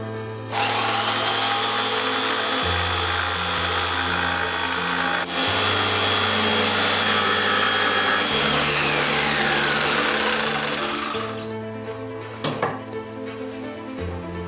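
Power saw cutting through aluminum extrusion for a vehicle interior build, a loud sustained whining cut lasting around ten seconds that then spins down, followed by a few clanks.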